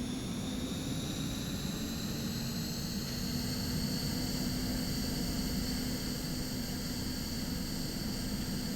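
King Air 350 turboprop engine idling steadily after start, a loud continuous roar with a sustained whining tone and rising high harmonics, heard close with no talk.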